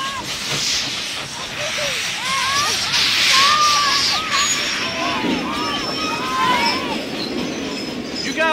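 Steam-era train with a caboose in a Western setting: loud hissing and repeated high metallic wheel squeals over a rolling rumble, heard alongside speech.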